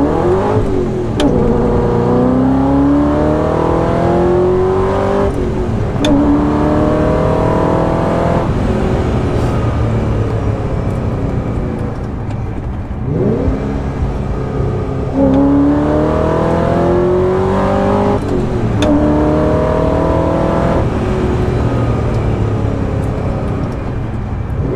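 A 2005–2006 Ford GT's engine revs loudly and repeatedly through its exhaust, each surge climbing in pitch before falling back, a continuous roaring sequence with no speech.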